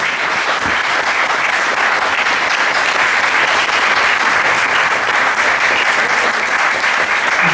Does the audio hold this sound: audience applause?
yes